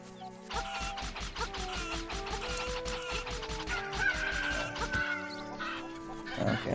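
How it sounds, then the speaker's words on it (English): Hen clucking in the Switch remake of Zelda: Link's Awakening, a run of rapid, evenly spaced game clucks layered over steady background music, with a brief burst of effects near the end. "now we can attack the hen and Marin gets so defensive"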